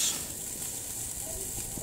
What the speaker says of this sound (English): we can still get that fantastic sizzle